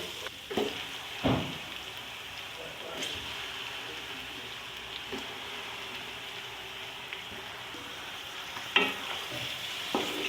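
Chicken pieces frying in a pan over medium heat with garlic and ginger for nihari, a steady soft sizzle with occasional louder stirring scrapes and clatters, close and continuous with no talk.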